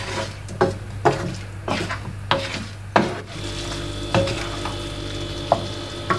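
A dry chicken dish is stirred in a pan, a series of regular scraping strokes over a soft sizzle, close and rhythmic at first, then giving way to a quieter hiss with occasional taps.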